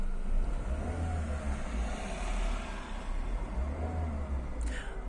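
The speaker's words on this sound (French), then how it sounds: "je vais accélérer et vous allez voir que l'aiguille du tour-minute varie selon l'accélération" A car engine revs up steadily as the driver accelerates while learning to drive, with a loud, continuous low rumble and broad road and cabin noise running throughout, and no one talking.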